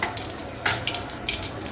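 Cumin seeds for a home-style Andhra tempering crackle and sizzle in hot oil, broken by brisk utensil scrapes and a sharper hiss partway through.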